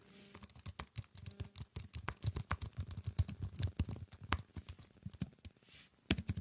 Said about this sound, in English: This is keyboard ASMR